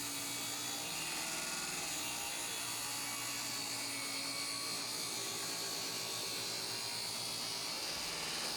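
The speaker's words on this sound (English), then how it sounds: "I'm shaving off between 1/8 of an inch and 1/4 of an inch all the way around the window" A power tool whines steadily and loudly, trimming between an eighth and a quarter inch around the edges of a window in a greenhouse shed; the high continuous drone runs unbroken throughout with no talking.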